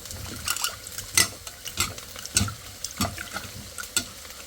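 Prawns with onion and chili stir-fried in a pan, with irregular scraping stirs and clatters over a low, steady sizzle, close and fairly quiet.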